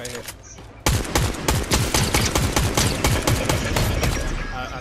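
Rapid automatic gunfire in the game Fortnite, a sudden loud burst of closely spaced shots after a brief lull, continuing in a steady rattling stream with voices faintly underneath.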